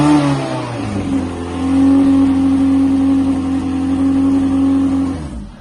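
A rebuilt time attack race car engine starts up and revs, a loud, steady close-up idle rising into a sustained higher-pitched rev before cutting off abruptly at the end.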